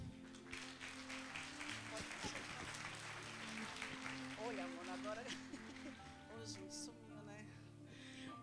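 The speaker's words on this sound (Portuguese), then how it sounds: "Vamos receber com os aplausos de vocês a senhora Gilvana" Audience applause rings out at an evening celebration welcoming a guest, a sustained wash of clapping with background music and crowd voices mixed in.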